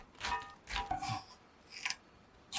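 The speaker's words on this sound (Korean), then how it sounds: "샐러리도 작은 크기로 잘라 웍에 넣을게요" A knife chops celery into small pieces on a cutting board: a few separate, close, crisp cuts with short pauses between them, then a sharper final knock, with no talking.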